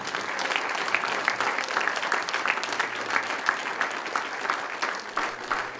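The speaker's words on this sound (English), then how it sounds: "Put your hands together. Give the Lord a clap offering." Church congregation applauding during a sermon, dense steady clapping from many hands filling the room without a break.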